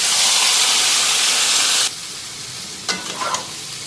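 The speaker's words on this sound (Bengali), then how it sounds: "এদিকে আলুটা ফ্রাই হয়ে গেল, মাংসটা দিয়ে দিই।" Meat tossed into a pan of frying potatoes sets off a loud, steady sizzling hiss that suddenly drops to a softer simmer, followed by a few scraping stirs near at hand.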